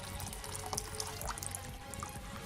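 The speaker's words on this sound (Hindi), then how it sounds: "हमारा पानी जो है वो भी बॉयल हो गया, अभी हम वो ऐड कर रहे हैं" Boiled water is poured into a simmering Lahori chickpea curry (chana salan), a steady liquid splash and trickle running close by for a couple of seconds, with no talking.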